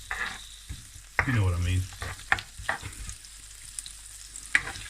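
Onions sauté in butter in a pan as the base of a butter chicken sauce, with a soft continuous sizzle and a few sharp stirring scrapes and clinks. A voice briefly talks over the frying.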